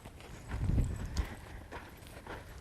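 A horse's hooves stepping on the ground during colt-starting groundwork, a couple of soft, muffled thuds close by with quiet handling sounds between them.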